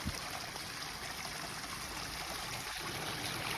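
Water flowing steadily from a landscape water feature bubbler, its output set by a valve, a constant close trickle and gurgle throughout with no voices.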